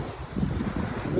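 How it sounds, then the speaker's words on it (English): Gusty wind buffets the microphone outdoors on a windy, rainy day in New Hampshire, a loud, close rumble with no one speaking. "it's getting a little windy"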